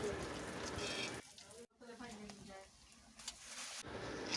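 Oil pitha, Bengali rice cakes, fry and puff up in hot oil, a steady soft sizzle that drops out briefly midway and returns, faint and close, with a voice talking over it.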